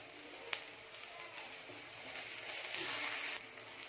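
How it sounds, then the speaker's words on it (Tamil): Steady crackling sizzle of green chillies and onions frying in a hot pan for Tamil-style chicken gravy, continuous and close, with a few sharper pops. "இப்போ இதெல்லாம் நல்லா ஃப்ரை பண்ணணும்"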